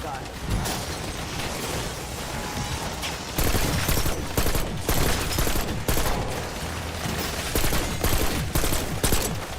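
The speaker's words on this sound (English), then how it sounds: "Machine gun turret shreds. Absolutely shreds." A machine gun turret fires in Black Ops 6, a dense, continuous stream of rapid shots roaring without pause, loud and close, with the rate and weight picking up slightly partway through.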